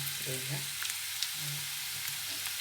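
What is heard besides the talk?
potatoes frying in oil with curry leaves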